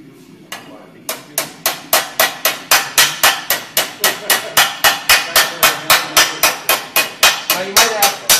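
A blacksmith's hammer spreads hot metal for a triangular roll with a long run of loud, evenly spaced strikes, about three per second, after a couple of hesitant opening blows.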